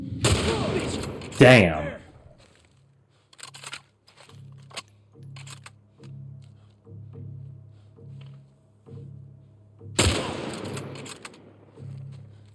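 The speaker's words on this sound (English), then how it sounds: "That is how you shoot a sniper rifle, my friend." Sharp sniper rifle shots ring out in The Last of Us Part 1, a loud burst near the start and another near the end, with quieter rhythmic game sounds between and a brief spoken word.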